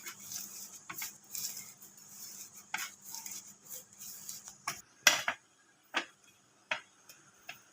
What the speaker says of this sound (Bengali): এভাবে মাখতে মাখতে খুব মিহি হয়ে গুঁড়ো হয়ে যাবে।